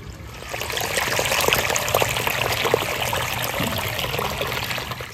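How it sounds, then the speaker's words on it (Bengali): Water runs and trickles steadily onto home garden beds of spinach, a close, continuous splashing stream with small dribbling spatters and no talking. "জল ছেড়েছি।"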